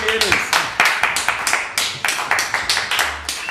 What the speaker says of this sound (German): Und Applaus vielleicht an und Applaus.